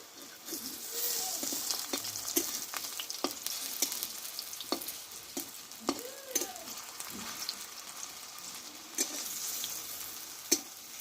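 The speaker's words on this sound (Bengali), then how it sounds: "উল্টিয়ে চারিদিকগুলো ভালোভাবে আমি একটু ভেজে নেব" Spinach fritters sizzle and crackle steadily in hot oil, with occasional clicks and scrapes of a utensil turning them nearby.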